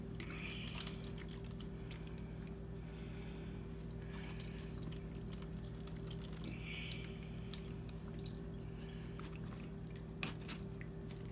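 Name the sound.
jerky marinade draining from meat in a colander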